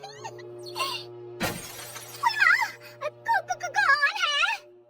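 A glass mirror shatters with one sharp crash in an animated Hindi folk story. Cartoon voices talk and exclaim before and after it.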